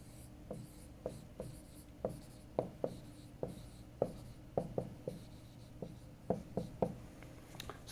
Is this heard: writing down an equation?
yes